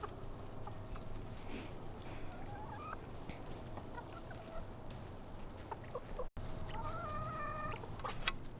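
Chickens on an off-grid property clucking softly and making occasional rising calls, scattered and fairly faint over a steady outdoor background hum.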